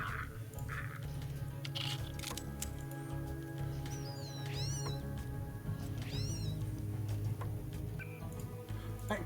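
A cat in the video game Deus Ex meows a few times, including a short rising caterwaul, over a steady low ambient drone with faint ticking.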